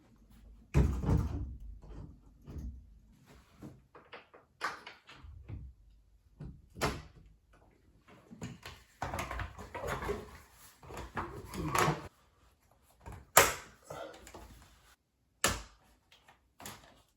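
Painted cabinet doors are put back on, giving a scattered run of wooden knocks, clunks and short scraping handling noises with pauses between them, close by and with no talking.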